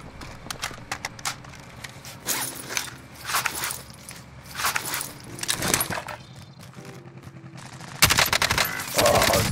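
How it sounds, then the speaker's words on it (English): Gunfire in the battle royale game Call of Duty Warzone: scattered sharp shots and rapid bursts, some close and loud, others farther off, with clattering impacts between them. "Taking fire over here"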